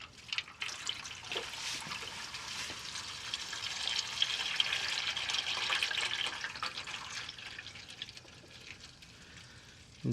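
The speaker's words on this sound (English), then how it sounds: "Alright, let's drain this oil." Warm engine oil drains from a Subaru Outback 3.6 into a pan, a faint steady trickling stream that runs for several seconds before tapering off, with no talking.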